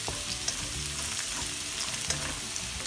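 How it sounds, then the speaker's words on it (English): Onions sauteing in a pan with garlic, giving a steady, even sizzle of frying with faint stirring clicks, close and continuous with no talking. "And we will saute our onion until it's golden brown also."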